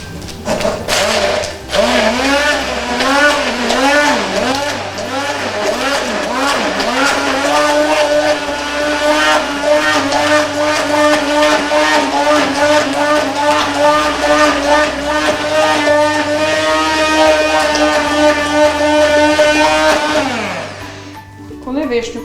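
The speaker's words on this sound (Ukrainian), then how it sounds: "Все добре перебиваємо блендером." An electric blender whirs loudly and continuously as it purées sour cherries and sweet cherries with sugar for a berry milk cocktail. The motor's pitch wavers up and down under a steady rhythmic music track, then winds down at the end.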